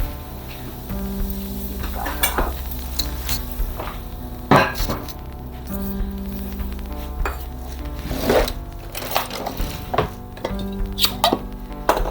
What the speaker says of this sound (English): I'm going to add some broth, which we want about 3/4 cup of broth.